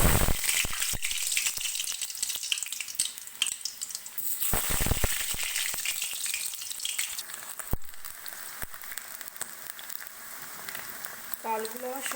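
Potatoes fry in hot mustard oil in a kadai, a steady loud sizzle with scattered crackles and a few sharp clatters throughout.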